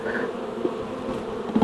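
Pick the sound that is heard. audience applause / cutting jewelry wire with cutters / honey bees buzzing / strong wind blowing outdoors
honey bees buzzing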